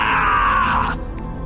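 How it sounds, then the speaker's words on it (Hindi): A horror-story monster splashed with holy water screams in pain and anger, a loud, rough, drawn-out cry that slides downward for about a second and then breaks off. "पानी पड़ते ही पीर चुम्बा दर्द और गुस्से में जोर से चीख उठता है।"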